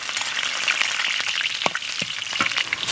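Scallion, ginger and dried chili frying in melted lard in a wok, a steady close sizzle with sharp pops and spatters throughout, no voices.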